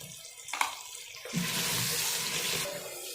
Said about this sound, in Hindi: मसाले को सही मिक्स करने के लिए ये मैं इसमें थोड़ा पानी ऐड कर रही हूँ।